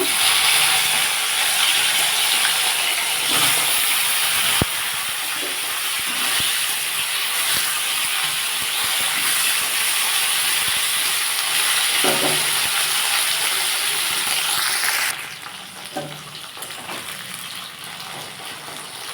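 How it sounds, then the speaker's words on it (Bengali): Okra (ladies finger) fries in hot oil, a continuous loud bubbling sizzle with occasional clinks and stirring, easing to a quieter hiss near the end, with no one talking. "এবার এই তেলের মধ্যে আমি ভেন্ডিগুলো একটু ভেজে নেব সামান্য"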